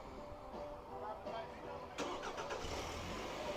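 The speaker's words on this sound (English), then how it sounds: "and the vehicle will crank up." A Nissan car's engine cranking and catching after a key fob remote start, faint and a little distant, with a sharp onset midway followed by a low steady idle.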